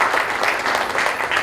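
Applause welcomes the president and trustees of Shri Ambika Yog Niketan onto the stage at a yoga and meditation event: an even, sustained wash of clapping from a seated audience, loud and continuous throughout.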